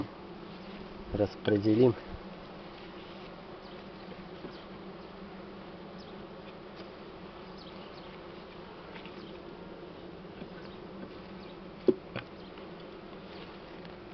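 A low, steady buzz of honeybees hangs in the background while honey is being harvested from the hive, with a few short thumps near the start and one sharp knock later; a voice briefly speaks.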